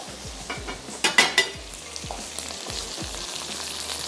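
Okra (bhindi) fries in a pan with a steady sizzle, broken by a few sharp scraping clatters near the middle as the pieces are stirred and lifted out; no one speaks.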